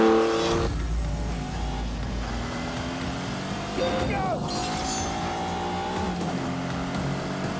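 A supercar's engine roars and climbs through the revs in The Grand Tour Game, with pitch sweeps as it shifts gears. Loud and close throughout, with faint tire noise.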